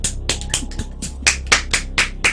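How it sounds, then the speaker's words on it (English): A few people clap slowly and sparsely in a small room, about a dozen short, uneven hand claps with gaps between them, close and fairly dry. "Your clapping sounds so sad."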